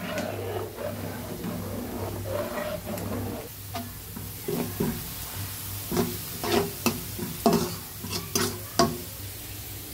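An egg being stirred in a hot pan while cooking mung dal with jackfruit seeds: soft sizzling under a steady hum, with a series of sharp utensil scrapes and taps growing more frequent toward the end.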